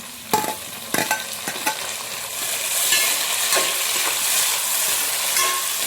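Tomatoes are added to fried onions in a pan for a fish curry, giving several sharp stirring knocks and then a strong, steady, close sizzle.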